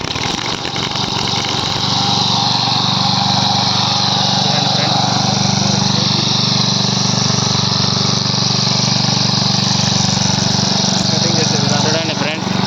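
A brush cutter engine runs steadily and loudly close by while cutting weeds in a mango orchard, a continuous high-revving drone with no pauses.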